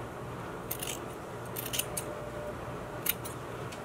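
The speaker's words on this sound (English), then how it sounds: "I'm going to go ahead and trim here down and then trim the corner." Scissors trimming a coat's fabric seam and corner: a few quick, crisp snips in small bursts, close and fairly quiet over a soft room hum.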